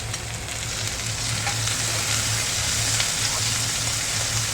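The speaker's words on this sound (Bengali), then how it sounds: "এবার দিয়ে দিলাম এখানে কিছুটা ছোট চিংড়ি" Small shrimp hit a hot pan of taro stolons with green chilli, giving a loud, continuous close-up sizzle and crackle like heavy rain, with no voices.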